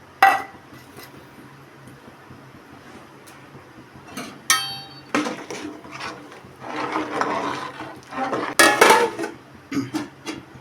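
Chopped coriander dropped into a pot of rasam, followed by metallic clinks and scrapes as a lid is set on, a few sharp knocks and rattles up close with quiet gaps between.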